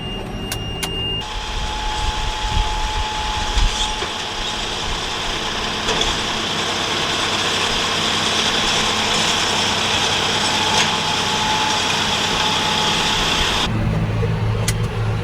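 A farm tractor with an IVT transmission runs steadily at a hay field, its engine a constant close drone with little change over the whole stretch.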